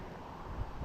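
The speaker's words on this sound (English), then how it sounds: "We still get some wind kicking up." Breezy outdoor wind during a walk, a steady broadband rush with microphone buffeting and gusty low rumble, with no one talking.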